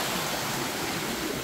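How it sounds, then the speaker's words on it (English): Steady rushing of river water in a Jamaican village, a broad continuous wash with no breaks, close and moderately loud, no voices. "here's another water flowing here"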